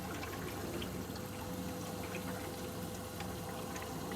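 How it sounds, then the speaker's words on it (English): Water gurgles and trickles through a recently drained and refilled home heating boiler system, a faint, steady flowing hiss with a thin constant hum beneath it. "It's making a lot of funny noises, but maybe it's just because the water's gone through the system right now."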